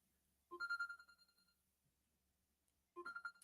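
A telephone rings with an electronic ringtone in two clear bursts separated by a pause of about a second and a half, with nothing else heard.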